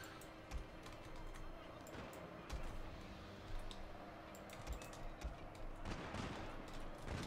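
Musket volleys and scattered gunfire crackle through a busy Shogun 2 Total War battle, with repeated sharp bursts over a constant din of fighting noise.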